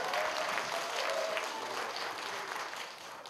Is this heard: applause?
yes